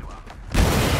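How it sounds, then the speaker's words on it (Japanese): A car blows up in the shooter game Wolfenstein II, a sudden heavy boom halfway through that swells into a loud, sustained roar of debris and fire after quieter in-game ambience. "車が爆発したんやな"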